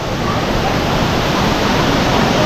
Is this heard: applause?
no